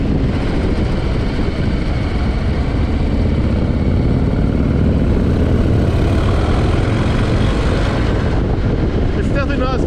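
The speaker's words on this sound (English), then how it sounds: "It sounds more Harley-esque. Well, that's because it's a Milwaukee 8." A 2023 Harley-Davidson Low Rider ST with its Milwaukee-Eight V-twin rumbles in a steady, continuous drone while riding, with wind roar and a voice talking over it.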